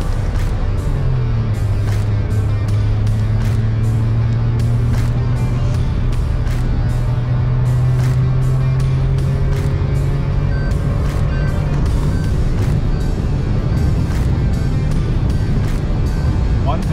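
A Maruti Fronx Alpha Turbo automatic car pulls away and accelerates up through its gears, the engine note climbing in rising sweeps over steady road and cabin rumble while a person talks over it.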